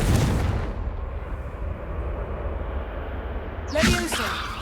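A Confringo blast spell explosion in Hogwarts Legacy, a deep booming burst at the start that rumbles away, then a second whooshing blast near the end.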